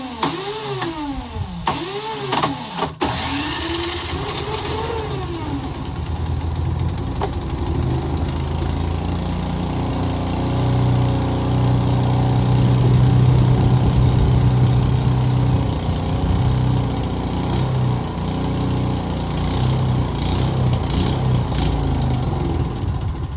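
An old snow blower engine salvaged from the garbage, run at half throttle with the choke on, sputters and catches, then settles into a loud, steady running drone close by.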